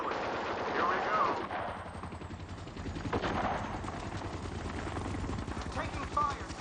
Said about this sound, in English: Crossbow, taking fire from the tree line on north side of LZ.